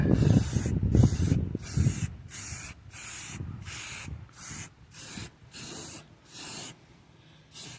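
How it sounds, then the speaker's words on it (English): Primer sprayed from an aerosol can onto a repaired body panel: a series of short hissing bursts with brief pauses between them, close and steady, after some rubbing and handling noise. "I got the primer in my hand now, so I guess now it's time to see what it looks like when I put a coat of primer over it."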